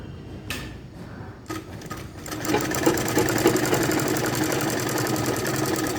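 A sewing machine stitches a piece of a suit kameez, starting with a few separate clunks before settling into a steady, fast mechanical whirr that runs close and loud to the end.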